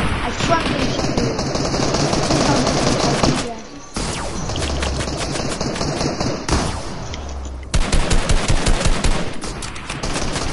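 Rapid bursts of automatic gunfire from the Fortnite video game ring out loudly and almost continuously, with brief pauses and renewed volleys, under occasional talk.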